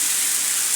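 Dhapate flatbread laid onto a hot oiled griddle gives a steady, bright sizzling hiss, close and even, lasting under a second with no pause.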